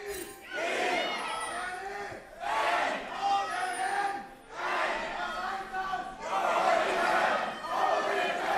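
A large arena crowd at a League of Legends esports playoff match chants and roars in four loud, rhythmic waves, with no commentator speaking.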